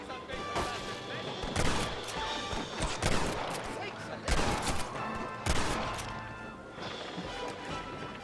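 Gunfire rings out from a gun mounted on a raft in the Western video game Red Dead Redemption, repeated sharp blasts and impacts in bursts, with voices heard in between.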